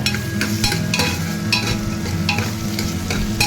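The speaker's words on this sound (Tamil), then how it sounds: "அதையும் எண்ணெயில் நல்லா வதக்கி விட்டுருங்க" Ginger garlic paste sautéed in hot oil for a vegetable dish, with a spoon scraping and stirring the pan in quick repeated strokes over a continuous close sizzle.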